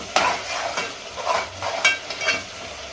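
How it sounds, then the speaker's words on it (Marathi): Masala for egg biryani sautéed in a pan on lowered heat, a steady close sizzle broken by regular scraping strokes of a spoon. "आता मसाला मस्त परतून घेऊ, एक जीव होऊस तर लगे।"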